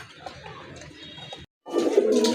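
Lal Rajgolla pigeons, a pair, coo in a loft with a broad rumbling murmur, a short silent gap, then a louder, fuller burst of cooing close by.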